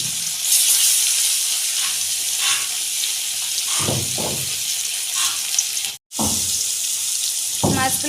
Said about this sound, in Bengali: মাছগুলি হালকা একটু লাল করে ভেজে নেবে